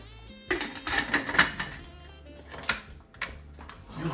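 A metal lid is set onto a cooking pot holding celery and cabbage soup, giving clattering, ringing clanks and scrapes. A few sharp knocks come close together, then softer settling clinks.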